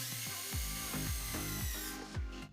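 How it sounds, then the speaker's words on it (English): A power drill spins to twist stripped wires together, the other ends clamped in a vise: a close, whining motor with several speed pulses as the trigger is worked, ending abruptly. "Insert one end of the wires into a drill, clamp the other end in a vise and twist the wire this way."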